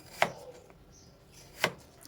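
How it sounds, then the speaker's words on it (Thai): A knife chops crosswise through potatoes on a cutting board, sliced about half a centimetre to a centimetre thick for battered fried potatoes. Two crisp, separate blade strikes land about a second and a half apart, close and clear against a quiet kitchen. "เราจะเอามันฝรั่งมาหั่นนะคะ เจ๊ปานจะหั่นเป็นแนวขวางแบบนี้ค่ะ"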